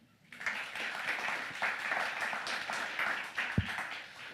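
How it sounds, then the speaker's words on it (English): Audience applause at the Lakes International Comic Art Festival in Bowness, a crowd clapping steadily for about four seconds after a quiet start, with one sharp thump near the end. "Give yourselves a round of applause."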